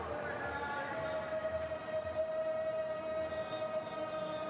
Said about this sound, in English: Seems like whistle for the drinks break.